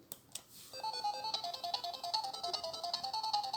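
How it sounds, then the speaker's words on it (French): A handheld Game Box 400 in 1 8-bit console powers on with a bright, repeating electronic startup jingle of pulsing beeps that runs steadily after a couple of brief clicks. "On va allumer la console du coup."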